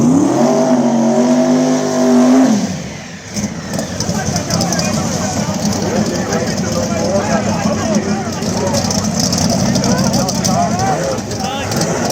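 Outlaw small tire radial drag race car on a shakedown pass at the track, engine loud and close: a steady high rev, then a sharp drop as it launches into a harsh roaring run, with an announcer talking over it.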